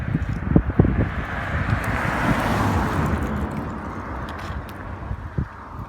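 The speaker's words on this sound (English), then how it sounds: "it's pretty windy" Strong wind gusting outdoors beside a road, roaring steadily across the microphone for several seconds with a few low buffeting thumps, no voices.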